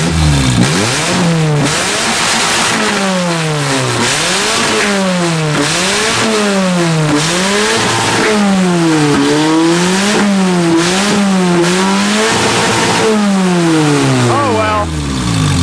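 A loud Nissan 200SX engine with a modified exhaust and flipped exhaust manifold revs up and down repeatedly with a harsh, raspy exhaust note, the pitch sweeping in sharp rises and falls throughout.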